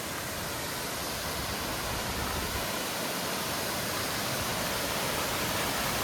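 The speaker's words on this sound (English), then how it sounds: "We're up to one of the waterfalls here." Waterfall along the Grinnell Glacier Trail, a loud, continuous rush of falling water filling the scene close by, steady and unbroken.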